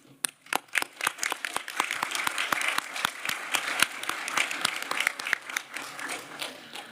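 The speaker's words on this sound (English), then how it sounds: "Please join me in giving them a round of applause." Delegates at an international meeting clap in a modest round of applause, individual sharp claps clearly separable, fairly quiet and thinning toward the end.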